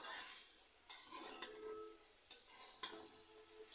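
Vegetables in a pan being turned and stirred with a utensil, giving soft clinks and scrapes with a faint sizzle underneath, fairly quiet and close, with no voices.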